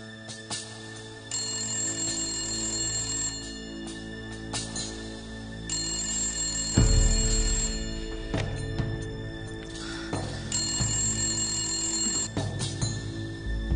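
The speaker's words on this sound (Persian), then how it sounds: "تلفن زنگ میزند." A telephone rings in a house in repeated bursts of bright electronic trilling, loud and close, with heavier thumps and clatter in the middle and no talking.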